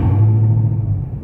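A Dodge Charger Redeye with its mid muffler deleted, heard from inside as a deep, steady exhaust rumble, loud and close, holding evenly for a brief moment without talk.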